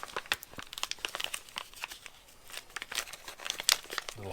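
An old paper-wrapped military field dressing being torn open by hand, with close, dry crinkling and crumpling bursts and brief tearing snaps in an irregular rhythm, fairly quiet and without speech.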